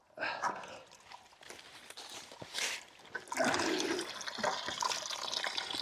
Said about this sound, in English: I'm just going to stick the hose in here quickly, get it filled up.